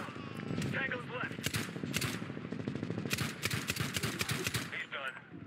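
Rapid bursts of automatic gunfire from the video game Medal of Honor (2010), dense and continuous across the whole stretch with sharp repeated cracks, heard with a voice mixed in.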